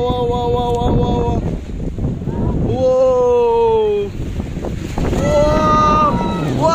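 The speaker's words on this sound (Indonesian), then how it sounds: "anginnya kencang sekali guys" Strong wind gusts buffet a tent in fog and rain, roaring constantly and loudly at the microphone. A voice is heard over the wind, stretching tonal wavering cries.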